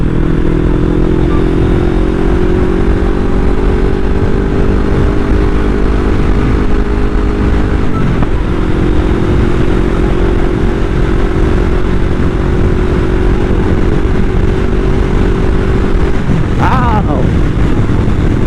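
A motorcycle engine held at high revs while riding, its steady drone changing pitch around the gear changes and climbing into sixth gear, loud and close with wind buffeting the microphone throughout.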